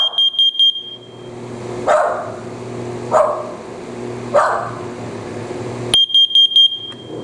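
A First Alert CO710 carbon monoxide detector sounds rapid high beeps at the start and again near the end, while a dog nearby gives three sharp, spaced barks in between.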